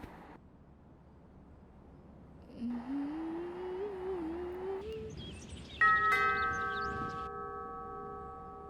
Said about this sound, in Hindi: घंटी बज रही है, देखो कौन है।